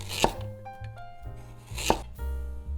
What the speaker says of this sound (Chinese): 西兰花切成小块，再切几片胡萝卜备用